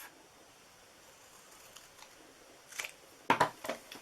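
Scissors cut paper in half while a treat box is assembled, a few quick crisp snips clustered near the end after a quiet stretch.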